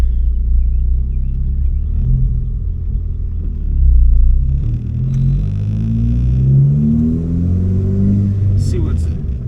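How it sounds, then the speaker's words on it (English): A Ford Focus ST with a Sidewinder turbo kit, new wastegate spring and upgraded fuel pump drives on a test run, its engine droning and rising in pitch through gears with a steady close rumble, and a voice talks over it. "I do want to get a good little drive in and see how it feels."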